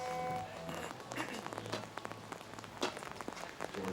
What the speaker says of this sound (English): as the relentless rain continues to come down here at Hibiya Park in downtown Tokyo